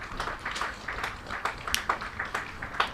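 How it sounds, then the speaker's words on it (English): A cricket crowd at a county championship match gives a sparse, light round of applause as a batsman walks off, with scattered claps at a distance. "you'll get a warm round of applause as he goes off"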